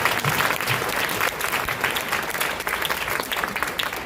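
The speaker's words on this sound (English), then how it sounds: "Round of applause." Audience at a literature festival breaking into applause, a dense wash of many hands clapping, loud and even for the whole stretch, with no speech over it.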